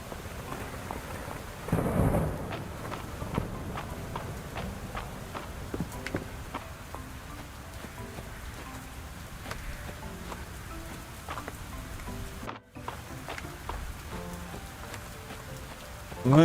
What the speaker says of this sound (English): In the pouring rain.